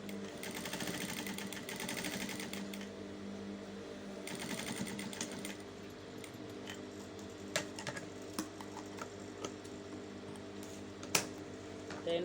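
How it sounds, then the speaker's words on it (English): A sewing machine stitches shut the opening of a reversible fabric hair bonnet, running in steady bursts with brief pauses and a few light clicks between runs. "So this opening that I have, I'm going to stitch that close."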